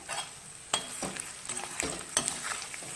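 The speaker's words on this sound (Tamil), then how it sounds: "இதை நல்லா அப்படி இந்த எண்ணெயிலே ஃப்ரை பண்ணி எடுங்க" Cashew nuts fry in oil on a low flame for an egg biryani, giving a steady soft sizzle broken by several sharp scraping stirs of a spoon in the pan, close and fairly quiet.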